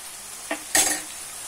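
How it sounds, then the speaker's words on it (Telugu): Onions fry in oil toward golden brown for a dosakaya tomato curry, with a soft background sizzle broken by two short scraping stirs of a spoon against the pan. "ఆయిల్ ఫ్రై అవ్వాలి, లైట్ బ్రౌన్ కలర్ రావాలండి, గోల్డెన్ బ్రౌన్. వచ్చే వరకు ఫ్రై చేసుకోవాలి."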